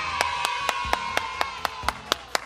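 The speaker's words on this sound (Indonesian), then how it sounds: "berikan tepuk tangan dulu dong buat Tuhan" Children at an online Sunday-school session clap their hands in praise: about ten crisp, evenly spaced claps in a brisk steady rhythm, fairly close, over a faint sustained background tone.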